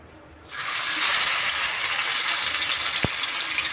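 Fish marinated in homemade masala dropped into hot oil, bursting into a loud, steady broadband sizzle that starts abruptly and holds, with one brief clink partway through.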